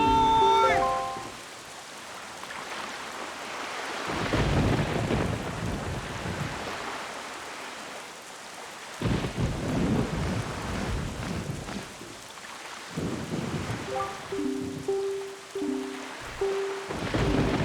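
A thunderstorm in The Legend of Zelda: Wind Waker, with steady rain and deep rolling thunder swelling and fading in several long waves, plus short game chimes at the start and near the end.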